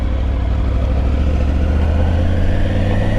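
A Triumph Tiger 900 adventure motorcycle engine hums steadily while riding, a loud, low continuous drone with wind rush and no talking.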